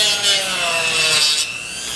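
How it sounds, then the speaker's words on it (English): A Roarockit scraper edge being ground flat gives a steady, close abrasive rasping and rubbing that runs without a break, with faint rhythmic strokes and no talking. "you just want to grind it nice and flat"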